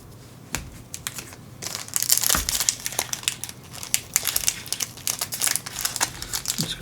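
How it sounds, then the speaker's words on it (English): Foil wrappers of Final Fantasy trading card booster packs crinkle and crumple up close, with sharp rustling bursts and tearing scrunches coming in irregular clusters, fairly loud and with no voices. "You guys don't need to sit here and watch me trying to open packs."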